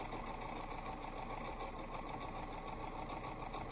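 A sewing machine chain-pieces fabric squares with a seam of about a quarter inch, running steadily with a fast, even mechanical whir and needle clatter close by.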